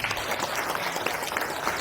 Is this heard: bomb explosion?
no